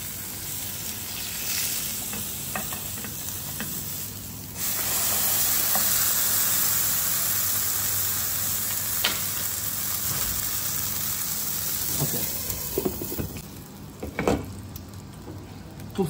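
Paturi sizzles loudly and continuously as it fries in a pan. The hiss swells after a few seconds, and a few soft clinks and scrapes come near the end, with no talking.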